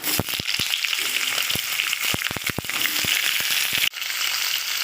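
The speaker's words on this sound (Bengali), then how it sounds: "কাঁচা লঙ্কা আর কালো জিরা একটু ভাজা ভাজা হয়ে গেছে, এবারে দেব কেটে রাখা ঝিঙ্গা।" Chopped ridge gourd drops into hot oil with green chillies and nigella seeds, setting off a loud, dense sizzle with sharp crackling pops and spatters, then a sudden dip near the end.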